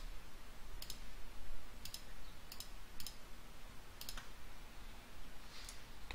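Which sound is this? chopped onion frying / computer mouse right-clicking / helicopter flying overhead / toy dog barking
computer mouse right-clicking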